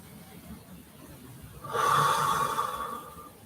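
A single slow, deep breath during a yoga breathing exercise, heard as a soft rushing exhale that swells and fades over about two seconds after a quiet start.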